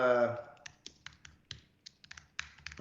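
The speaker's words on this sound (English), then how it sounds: "everything you're typing right now is live on stream, Anthony." Keys clatter on a computer keyboard during a live coding stream. Irregular taps come in quick bursts at moderate loudness, and a voice speaks briefly at the start.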